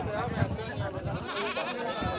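A goat bleats close by at a busy livestock goat market, its wavering call mixed with people talking over the crowd noise.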